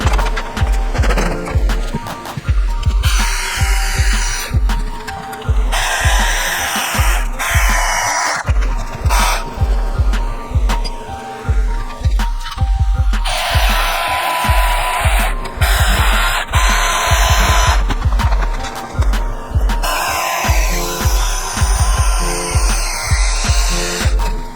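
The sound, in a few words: power tool cutting BMW E30 coilover parts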